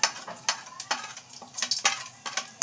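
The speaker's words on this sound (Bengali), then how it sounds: "এই যে কালো জিরে দিয়ে নিচ্ছি" Black cumin seeds frying in hot oil in a pan, a close, steady crackle broken by several sharp clinks and scrapes of a utensil stirring against the metal, with no voices.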